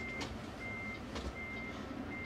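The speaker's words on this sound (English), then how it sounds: "I do have the backup noise" Backup alarm of a reversing truck, a steady series of evenly spaced electronic beeps, moderately faint over a constant engine rumble, with no voices.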